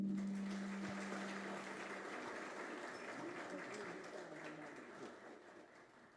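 An audience applauds at a civil protection ceremony, a steady wash of clapping heard from a distance with a brief tone at the start, slowly fading over several seconds.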